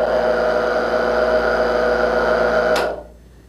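A battery-operated agricultural spray pump motor runs loud and steady with a bright whine and a constant hum, then cuts off abruptly near the end, leaving faint residual noise.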